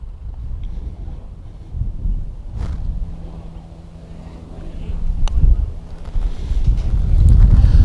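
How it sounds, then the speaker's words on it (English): Steady wind buffets a nearby microphone on a putting green, with low rumbling gusts that swell louder toward the end and a faint outdoor hum underneath. "of course it's windy"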